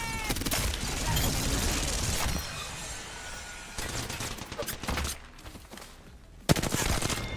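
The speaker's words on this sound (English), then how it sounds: "You get a bullet, and you get a bullet. Everyone gets a bullet." Bursts of rapid automatic gunfire from an Apex Legends match crackle in rolling volleys, with gaps of quieter mechanical clatter between them and one sharp loud shot near the end.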